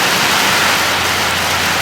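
Steady rain pours over an outdoor duckling pen, a dense, even hiss with a faint low hum underneath and no talking.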